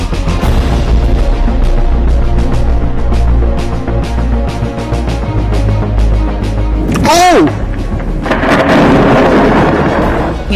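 Thunder from a fierce lightning storm in Melbourne rolls as loud, deep rumbling and crackling, with a sweeping tone midway and rain-like hiss near the end.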